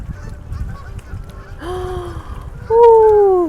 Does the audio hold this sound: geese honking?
yes